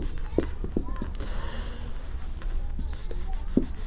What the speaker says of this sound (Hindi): तो यहाँ लिख देते हैं उत्तर